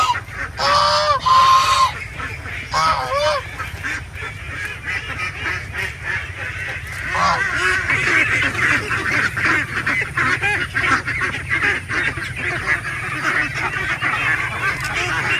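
Free-range ducks (itik) honk and quack loudly in a noisy, overlapping flock, with sharp calls near the start and a continuous chorus of chatter throughout.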